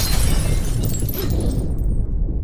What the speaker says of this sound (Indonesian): Katalia yang rupanya memantau percakapan mereka melalui senjata sniper tiba-tiba memberikan tembakan peringatan ke arah Richard